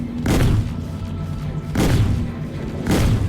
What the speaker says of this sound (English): Just because you decided to fire all weapons simultaneously